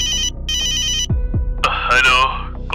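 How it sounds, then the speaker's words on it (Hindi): A telephone rings back after a number is dialled, two bursts of bright trilling ring, then thumps and a voice starts talking over the line. "रोहन कॉन्टैक्ट लिस्ट में रामू काका का नंबर ढूंढता है और डायल करता है।"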